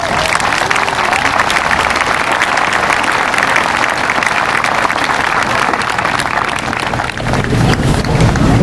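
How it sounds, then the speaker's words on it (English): A large audience of parents, guardians and grandparents at a 2012 commencement ceremony applauds. The clapping is a steady, dense wash that runs loud and unbroken from start to finish, with no voices standing out. "please give yourselves a rousing hand of applause for what you've accomplished"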